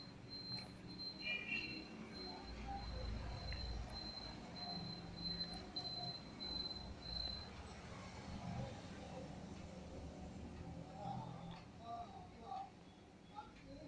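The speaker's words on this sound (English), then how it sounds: "I have assigned a train now to transport grapes from the grape farm to the winery" Wheels squeal and rumble steadily as a train runs along its track in a railroad-building game set in Italy, hauling grapes from a farm to a winery, a continuous mid-level rolling hum with brief high squeaks.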